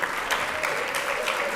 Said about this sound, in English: Once again, a round of applause for our Lifetime Legacy